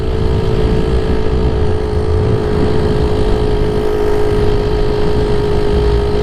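A Solex 6000 moped engine drones loudly and steadily while climbing a steep hill, holding one constant strained pitch close up with no change in revs and no talking.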